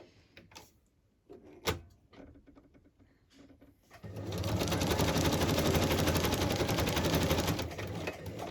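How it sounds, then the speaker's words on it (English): A sewing machine zigzag stitches around a curved fabric tag shape, starting after a few seconds of clicks and handling noises and then running steadily and close for several seconds. "I'm just going to stitch around this because I am quite happy with that, and I might zigzag around this."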